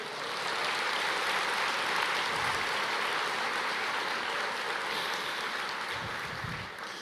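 A church congregation applauds in a dense, continuous wash of clapping that holds steady for several seconds and then eases slightly toward the end, heard from a moderate distance.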